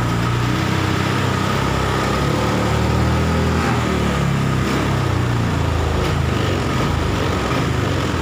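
Honda Vario 150 scooter engine running steadily close by with a dense, buzzy drone, hesitating on hard throttle and flat at high revs; the tone shifts slightly as the throttle is blipped, with no talk.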